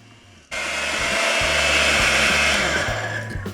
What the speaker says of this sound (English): we're done beating the butter, sugar, and